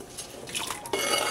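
Chopped onions tossed into a pot of water for cabbage soup make a short, close splash and clatter against the metal, lasting only a moment.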